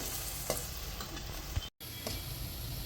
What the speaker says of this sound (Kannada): ಆನಿಯನ್ ಫ್ರೈ ಆಗ್ತಾ ಇದೆ, ಚೆನ್ನಾಗಿ ಕೆಂಪಗೆ ಬರೋವರೆಗೂ ಫ್ರೈ ಮಾಡಿ.